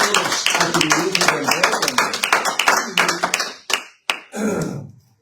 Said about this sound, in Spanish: Una ofrenda de aplausos al Rey.